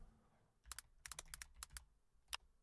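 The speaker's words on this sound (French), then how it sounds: "Vous appréciez mon nouveau son de clavier ou pas?" Computer keyboard typing with a light, clicky tone like a small typewriter: irregular runs of crisp keystrokes, close and clear, with a single final tap after a pause.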